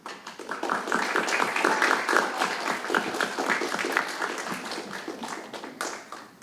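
At a school spring band concert, the audience gives a crowd of clapping hands for the 7th grade band, an even patter of moderate applause that holds steady and tapers slightly at the end.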